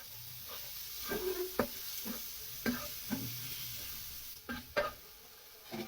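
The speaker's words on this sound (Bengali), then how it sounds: "আমার বরবটি ভাজা হয়ে গেছে।" Yardlong beans fry in a little mustard oil in a pan, giving a quiet close sizzle broken by sharp scraping and stirring clacks spread irregularly over several seconds.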